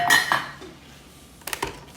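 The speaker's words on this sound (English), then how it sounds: "we're going to get the hand mixer out." Clinking kitchen utensils and metal bowls while a hand mixer is pulled out for gluten-free vegan gingerbread dough: a couple of sharp clinks at first, a quiet pause, then a quick burst of rattling clatter.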